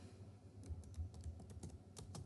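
Typing on a computer keyboard while writing HTML code in Notepad: a steady run of close, crisp key clicks with no talking.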